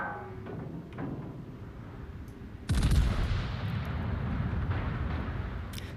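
A heavy main-battery salvo from the French tier 7 battlecruiser Toulon in World of Warships booms suddenly after a quieter stretch, then rolls out into a long, loud rumbling decay.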